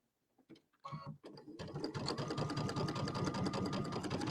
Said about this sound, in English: I'm going to back up over it so that we have that sewn a couple times.